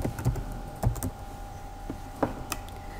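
Keys on a computer keyboard clack in a few scattered, fairly close taps with pauses between them, alone and without any voice, while an email address is entered during an account sign-up.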